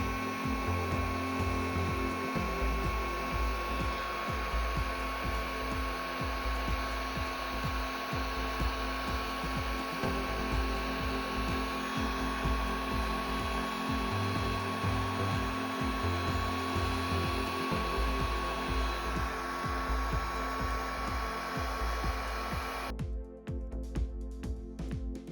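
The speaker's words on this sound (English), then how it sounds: "I'm going to slowly blow the wave out." A steady, continuous blowing hiss from an air tool pushes a resin wave across beach-themed coasters, close and unbroken for most of the clip before it cuts off near the end.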